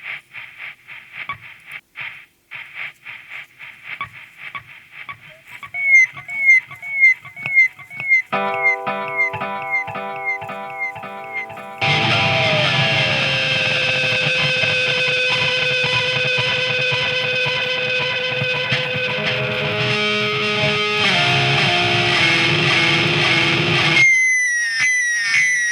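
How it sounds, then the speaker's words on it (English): Electric guitar feedback runs through an echo pedal: repeated plucked notes decay into echoes, then loud, sustained howling feedback tones drone and shift in pitch to the end, with no talking. "This is the one that has the feedback."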